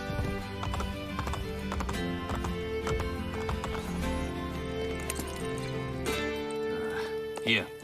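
Horses gallop with steady clip-clop hoofbeats in the Assassin's Creed Brotherhood video game, loud and continuous under a dense layer of music and game sound, with a brief whinny near the end.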